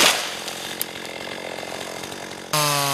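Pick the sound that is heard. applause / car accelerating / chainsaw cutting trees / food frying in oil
chainsaw cutting trees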